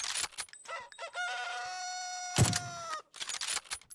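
A chicken in the battle royale game PUBG crows loudly and clucks in a rising, drawn-out call, with scattered clucks before and after and a brief thump midway.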